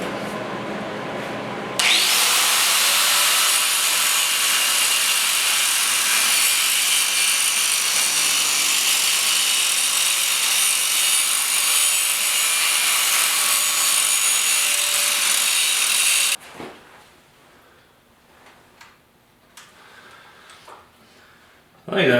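A grinder smooths the tailstock of a Delta wood lathe, running as a loud, steady, close grinding roar for about fourteen seconds before cutting off into quieter handling noises.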